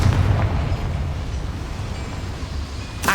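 Confringo fire spell explodes in Hogwarts Legacy: a deep, rumbling blast up front that rolls off into a long low decay, loud and close, with a sharp crack near the end.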